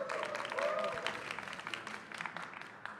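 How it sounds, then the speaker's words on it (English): Audience applause welcoming Metta World Peace onto the stage at a fireside chat during an investment summit expo, a quiet, distant clatter of clapping that thins toward the end with faint voices mixed in. "Let's give them a round of applause and a good welcome."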